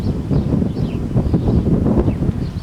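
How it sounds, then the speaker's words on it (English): Gusty wind rushes outdoors and buffets the microphone, a steady loud roar with faint rustling and occasional distant bird chirps. "Blowing in the wind right now."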